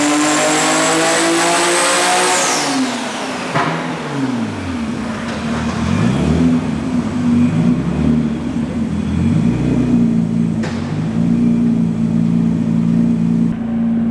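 An 800 hp Nissan Skyline R33 GT-R Le Mans Edition street car revs hard under boost, its engine pitch climbing and falling through several sweeps, then holding a loud, sustained, rising drone, close and continuous with no talk.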